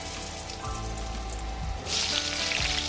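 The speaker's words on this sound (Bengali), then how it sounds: "এবার ওই তেলেতে আলুগুলো দিয়ে দিলাম" Potatoes sizzling and crackling in hot oil, a steady frying hiss that swells louder partway through, close with no talking.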